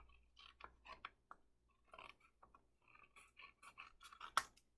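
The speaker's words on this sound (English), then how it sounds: "I'm going to take my scissors and I'm going to cut through both sides of the bottom" Scissors cut through a toilet-paper card, making a series of quiet, crisp snips with uneven rhythm. The cuts are close, soft and faint, with no talking.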